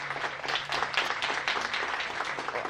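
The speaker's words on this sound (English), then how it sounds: "Give her another round of applause" An audience at a World Food Day celebration gives a brief round of applause, a dense, even patter of many clapping hands with no voices.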